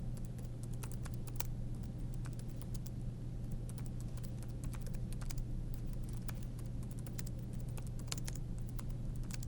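Someone types steadily on a computer keyboard in a quiet room with a low background hum, the key clicks coming in irregular rapid bursts for about nine seconds.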